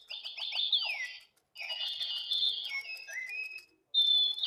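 A small battery-powered toy cuckoo bird with flashing lights and shaking birds gives out bright electronic chirps and warbling whistles in three short bursts, close and clear with brief silent gaps between them.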